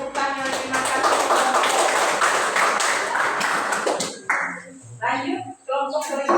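A classroom breaks into applause after a group finishes its presentation, with several seconds of close, busy clapping that stops abruptly before voices and shuffling take over.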